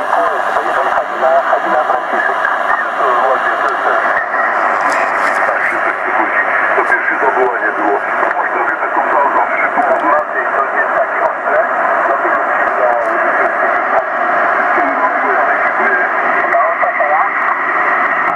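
A loud, steady radio hiss carries a muffled, warbling transmission that fades with propagation, rising and fading under the noise, continuing throughout.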